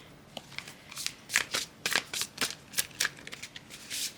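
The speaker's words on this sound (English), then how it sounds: "I want to keep shuffling because it makes it even" Tarot cards are shuffled by hand in a steady series of crisp riffling bursts, close and fairly loud, with no talk over them.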